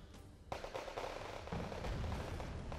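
Gunfire in the real-time strategy game Wargame Red Dragon, a steady crackle of rapid shots and bursts, faint and distant, without voices.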